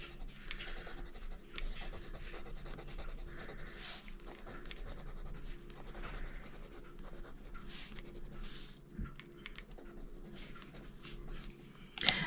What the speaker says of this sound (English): I will use the pastel lemon to burnish